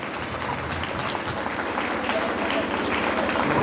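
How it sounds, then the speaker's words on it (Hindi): Steady, dense audience applause at an award ceremony, a large crowd clapping continuously at moderate volume for several seconds. "एक बार जोरदार तालियां बजा दे"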